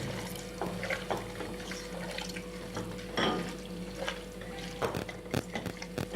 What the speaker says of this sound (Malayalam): ഇതിലോട്ട് നമുക്ക് വെള്ളം, ഒരു ചെറിയ ഗ്ലാസ്സിൽ 1 ഗ്ലാസ് വെള്ളം ഒഴിച്ചു കൊടുക്കാം.